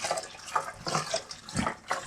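Water runs from a hose hooked to a tap while ginger beer is brewed at home, a steady faint gush with small splashing swells.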